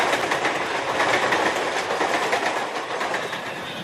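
A Bombay suburban commuter train rolls along the track, a steady, loud rush of wheel and carriage noise with faint rhythmic clatter, close by and continuous, gradually easing slightly toward the end.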